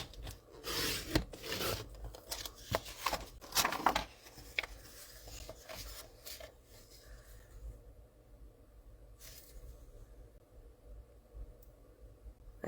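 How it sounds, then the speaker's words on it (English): Card stock cut on a paper trimmer while making cards: several close scraping, slicing strokes in a quick cluster, then quieter rustling and handling noises with long pauses between them. "let's just quickly trim this down"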